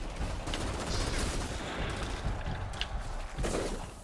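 Sniper gunfire in the video game Outriders: a dense, continuous barrage of shots and impacts with a steady loud rumble, sharper cracks breaking through, and no voices.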